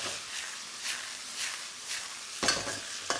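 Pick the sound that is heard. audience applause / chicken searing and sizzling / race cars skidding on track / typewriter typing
chicken searing and sizzling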